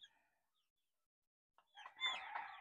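A young Boston Roundhead Sweater cockerel sounds once, a short rough crow-like call rising from quiet and holding for about a second, fairly close and alone, after a faint earlier cluck.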